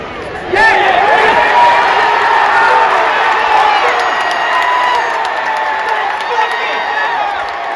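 Big stadium crowd at a Yankees vs Orioles baseball game, a steady loud roar of cheering and voices that swells in and holds throughout, with whoops and shouts rising above the din.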